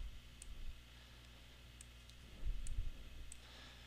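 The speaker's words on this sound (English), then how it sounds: "And double clicking on the node will delete it." Faint quick computer mouse clicks come in short pairs, sparse and quiet against a low background hum.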